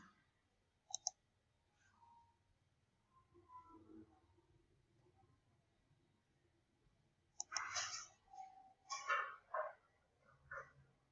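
Mouse clicks while drafting a 2D building elevation in AutoCAD 2020, heard as a few sharp, quiet clicks early on followed by a busier cluster of clicks and desk handling later, fairly close and with no talk.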